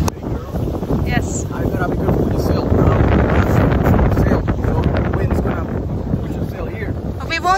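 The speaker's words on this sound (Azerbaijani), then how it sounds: "The wind is blowing from that direction." Strong wind buffets a sailboat off Varadero, Cuba, roaring steadily into the microphone alongside rushing water and hull noise throughout, loud and close.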